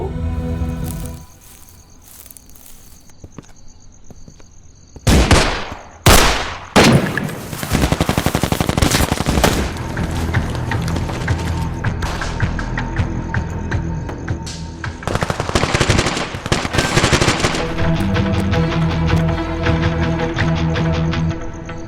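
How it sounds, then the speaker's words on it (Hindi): Gunfire erupts in a Pakistani TV drama with a few loud shots, then bursts of rapid automatic fire crackling at length over a background hum and music, with no talk. "खून खराबा नहीं चाहते इसलिए इतनी गोलियां चलाई तुमने?"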